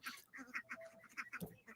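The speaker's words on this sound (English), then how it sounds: "look, all these ducks over here, they keep coming up" Ducks gather close by, giving a series of bright, nasal quacks in quick irregular bursts. One lower call sounds near the end. No one talks over them.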